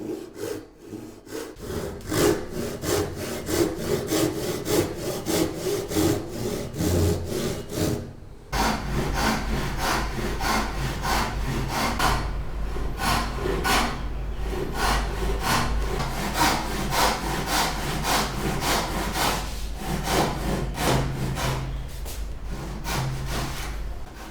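Steady back-and-forth strokes of a hand saw cutting wood for a half lap joint, rhythmic and close, with a brief pause partway through before the sawing resumes, no talk.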